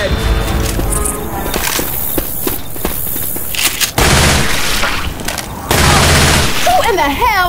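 Gunfire aimed at a Tank in the zombie shooter Left 4 Dead 2, with dense bursts of rapid automatic shots and booming blasts, loud and close, cut with short pauses and mixed with voices talking over the shooting.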